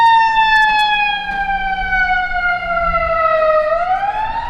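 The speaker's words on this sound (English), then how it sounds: "this ambulance is being very loud." Ambulance siren on a Chicago street during the Christkindlmarket, a loud, clear wailing tone that slides slowly downward and then turns sharply back upward as the vehicle goes past, with traffic rumbling underneath.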